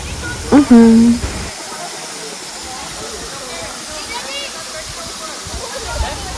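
A monsoon waterfall near Pune roars as a steady broadband rush, close and constant, after a brief burst of voices at the start.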